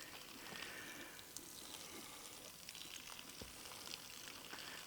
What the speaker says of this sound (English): It's actually making splashing noises while it lands on the ground.